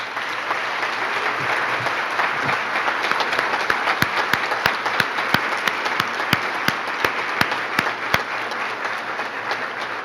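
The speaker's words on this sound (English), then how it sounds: "Please give a warm round of applause to Matt Taylor" A luncheon audience gives a warm, steady round of applause for a hometown hero honoree, dense clapping filling the room evenly, with a few sharper individual claps standing out near the end.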